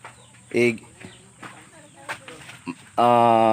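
Chickens cluck and squawk in short bursts nearby, ending with a louder drawn-out call, while a person talks in the background.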